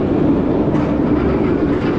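Shambhala roller coaster train at PortAventura, a loud continuous rumbling roar of the train running on its track, steady throughout without pauses.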